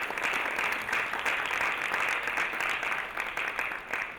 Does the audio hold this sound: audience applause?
yes